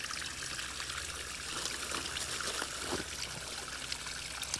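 Cold spring water trickling at an old spring resort, a steady close splashing flow with soft bubbling, quiet and continuous, no voices.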